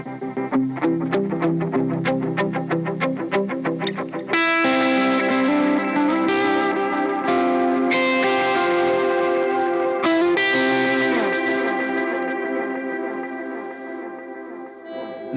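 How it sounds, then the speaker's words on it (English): Electric guitar notes through delay and reverb pedals ring out with repeating echoes and a lush, washy tail, first picked in a quick rhythmic pattern, then sustained chords that bloom and decay. "the standard like always on delay reverb stack"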